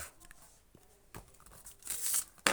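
A small paper surprise packet is torn open by hand, with several short rips and crinkles that build to a louder tearing burst at the end, heard alone.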